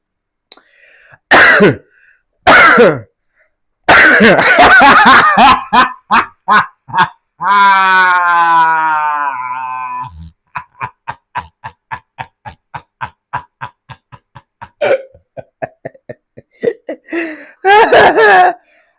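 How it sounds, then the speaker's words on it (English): Several abrupt coughs and throat-clearing bursts, close and loud, broken up by a stretch of voiced sound and a run of quick ticking clicks. "I coughed 3 times."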